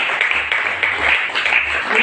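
A church congregation claps for Jesus during a Swahili-language service, a steady, dense patter of many hands that continues without a break.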